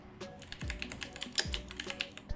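Quick, light tapping on a computer keyboard while entering a search term, irregular clicks close to the microphone with no talking.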